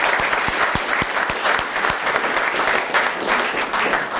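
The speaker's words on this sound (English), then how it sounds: "we should give them a clap" An audience at a youth speech competition claps steadily, a dense wash of applause with a few loud, close individual claps early on, then continuing evenly.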